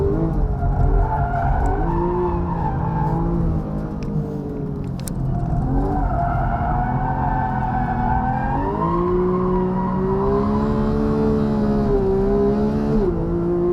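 A Porsche 911 GT3 driven hard on a racetrack, its engine loud and close, revving and shifting with rising and falling pitch, with tire squeal as it corners.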